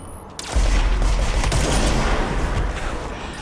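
Gunfire in the Control video game: a loud sustained barrage of rapid shots and booming impacts kicks in abruptly after a brief quieter moment, then rolls on heavily.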